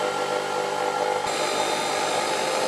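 A drill runs steadily in a homemade cross drilling contraption without a spindle lock, giving a loud, continuous mechanical whir with a grinding edge; the tone shifts slightly partway through but keeps going alone, with no talking.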